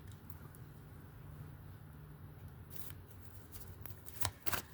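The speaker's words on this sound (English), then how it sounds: "I'd like to do extra shuffle so that when the cards come out" Tarot cards being shuffled, soft riffling and shuffling with a few sharper snaps near the end, close by and otherwise quiet.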